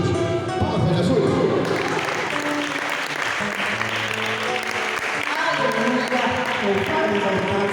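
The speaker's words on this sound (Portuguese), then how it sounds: "Palmas para Jesus." A church congregation breaks into sustained applause, a thick and steady roar of many clapping hands with some cheering, while music and voices carry on underneath.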